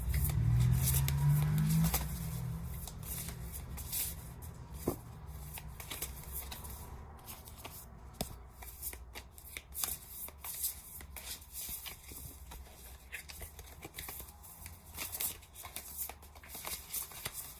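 Playing cards being shuffled, a brief loud riffle at the start followed by quieter, repeated card handling and soft flicks for a long stretch.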